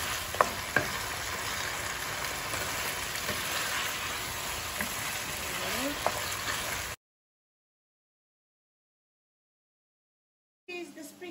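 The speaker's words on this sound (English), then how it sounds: "Chopped, washed, and in it goes with the potatoes." Chopped, washed vegetables frying with potatoes in a hot pan: a loud, crackling sizzle with stirring scrapes for about seven seconds, then silence, then the sizzle briefly returns.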